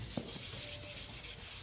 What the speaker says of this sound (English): what we're doing now is we're literally just sanding the primer